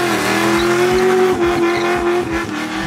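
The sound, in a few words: 1965 Ford Mustang widebody pro touring car driving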